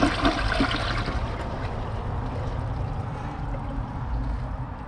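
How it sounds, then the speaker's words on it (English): An American Standard Champion 4 toilet runs its pressure-and-release flush, a loud, steady rush of water swirling through the bowl that holds strong for about five seconds and tapers only slightly at the end. "Pressure and release flush."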